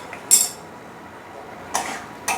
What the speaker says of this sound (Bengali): আমি ঢাকনাটা খুলে দিচ্ছি।